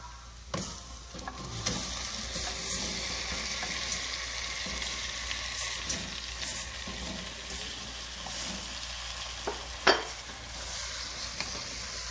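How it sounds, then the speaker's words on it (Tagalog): Prawns fry in a hot pan with corn, giving a steady close sizzle broken by occasional stirring scrapes and clatters, with no voices. "pwede na natin i-add ang prawn."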